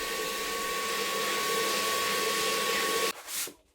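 A vacuum cleaner hoovers up dust from a bathroom floor being prepared for tiling, a steady loud drone running close by that cuts out near the end, followed by a few brief shuffling noises.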